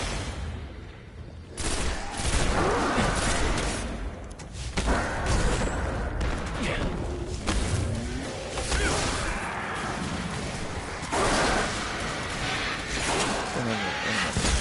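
Gunfire in the Destiny video game, with repeated shots and heavy impacts in a continuous, busy battle texture, sometimes surging louder, while someone talks over the combat.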